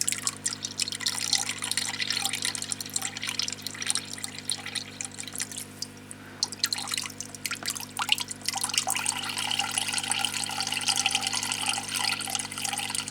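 Water from a K40 laser's cooling pump gushes and drips as it pushes sludgy, debris-laden water through clogged pipes, a steady close splashing trickle with no talk.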